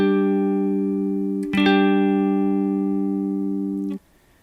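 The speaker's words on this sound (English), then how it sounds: "another power chord that sounds great on the electric guitar is like this." Power chord on an electric guitar: a single strum rings as a steady, bright sustained chord with a short pick attack partway in, then is cut off abruptly after about four seconds, played alone.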